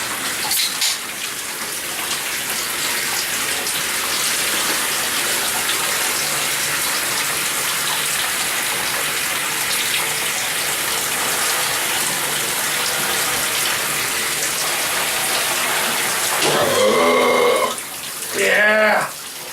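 Shower water running steadily and loudly as a continuous hiss and spray, with someone talking briefly near the end.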